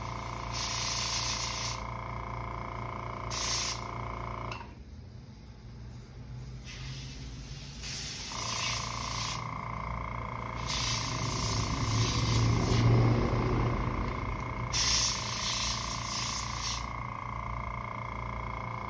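Black spray paint hisses in repeated bursts onto a big deep-diving crankbait fishing lure, several sprays of varying length separated by short pauses, close and moderately loud over a steady background hum.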